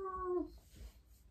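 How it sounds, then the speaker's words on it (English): A cat gives a single short meow, a close, falling cry lasting under half a second, followed by quiet room noise. "So you meow back to me."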